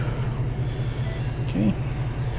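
A 2022 Ford F-150 Roush Performance Edition idles with a low, steady rumble throughout, close by, with a faint brief chime or tone partway through.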